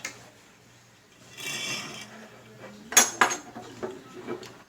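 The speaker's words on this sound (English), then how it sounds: "You want to make sure you put your bolt carrier there. So you put the spring on." MKA 1923 shotgun being reassembled, the spring and bolt carrier fitted by hand: soft metallic sliding and rubbing, then a few sharp close clinks and clicks of steel parts, quiet and without talk.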